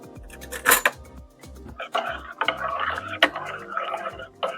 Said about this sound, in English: I'm gonna just stir this a little bit.